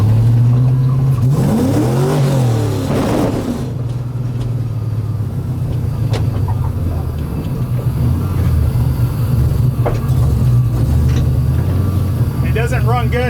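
A car's engine revs as it warms up, since it runs rough at idle and low RPM when cold, giving a loud, close, steady rumble with rising and falling pitch sweeps while someone talks over it.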